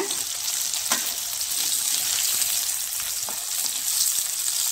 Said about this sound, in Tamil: தக்காளியையும் போட்டு வதக்கணுங்க